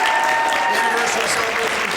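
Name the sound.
audience applause at Abbey Players anniversary show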